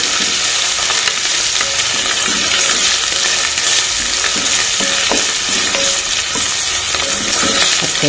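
Ginger garlic paste fries with onions in a pan, a continuous loud sizzle punctuated by repeated scraping and stirring of a spatula against the pan, no talking.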